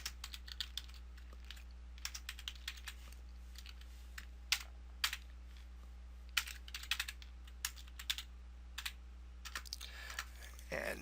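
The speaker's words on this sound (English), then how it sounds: "We're going to go ahead and type in, the next one was for Yelp." Fingers typing on a computer keyboard, light scattered clicks in short bursts over a low steady hum, fairly quiet and close.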